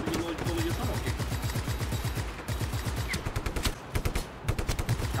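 Rapid gunfire bursts from the Just Cause 3 video game, dense repeated shots with explosions and rumbling action sounds running continuously underneath, while a voice speaks over the fighting.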